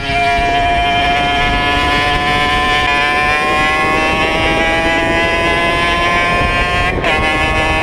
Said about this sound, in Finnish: Tää on mun mopon esittelyvideo. Tää on mopo.